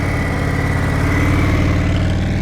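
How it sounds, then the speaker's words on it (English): A motorcycle engine rumbles steadily up close while stopping, its revs lifting slightly and holding, with no voices. "Now I heard him raise his RPMs a little bit as he was stopping."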